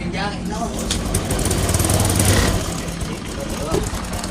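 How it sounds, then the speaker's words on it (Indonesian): A Honda Vario 125 scooter idles roughly and unevenly, its engine stumbling and misfiring with a limping beat; it runs close and loud, and a voice talks over it. "dengarkan langsamnya seperti pincang ya"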